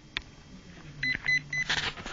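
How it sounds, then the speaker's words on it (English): A few short, high electronic beeps from an RC car's EZ-Run ESC during programming, in quick succession, fairly quiet against faint background noise. "It'll beep twice and green again."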